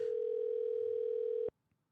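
A steady electronic telephone ringback tone sounds while a podcast host calls in to a listener, holding one unbroken pitch for about a second and a half before cutting off abruptly into near silence.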